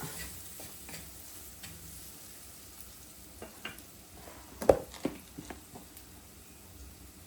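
Coriander powder stirred as it heats in oil for a Kerala tomato curry, with soft sizzling under irregular spoon scrapes and a few sharper clinks near the middle, fairly quiet and close.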